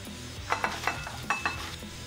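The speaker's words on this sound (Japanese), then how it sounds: "シラチャー、練乳、スイートチリ、マヨ、マヨ、マヨ、とろっとするまで混ぜれば背徳感たっぷりソースの出来上がりだ。" A thick sauce of sriracha, condensed milk, sweet chili sauce and mayonnaise is stirred in a bowl, with a run of sharp utensil clinks and scrapes against the container, close up and without talk.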